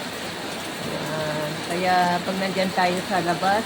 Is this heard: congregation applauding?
no